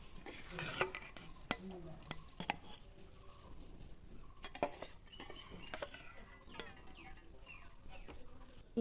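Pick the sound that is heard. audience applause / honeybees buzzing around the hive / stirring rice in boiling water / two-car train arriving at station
stirring rice in boiling water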